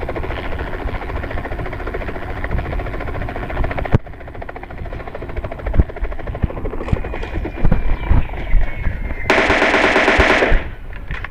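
Automatic gunfire in the video game PUBG, rapid bursts with a heavy sustained volley near the end, set against a steady mechanical background drone and no talk.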